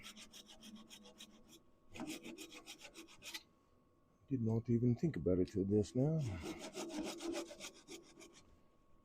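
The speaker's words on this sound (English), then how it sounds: "sawing this with a fine-tooth saw" Fine-tooth saw cutting a wooden tenon on a turned piece that still holds some moisture, heard as bursts of rhythmic rasping strokes, loud and close, alternating with someone talking.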